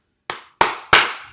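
Three sharp hand claps in a steady, evenly spaced rhythm, close and loud, each with a quick bright attack and short decay, alone without any talk.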